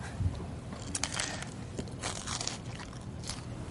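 Someone chews a crunchy crouton, close irregular crunches and bites over a few seconds with no talk.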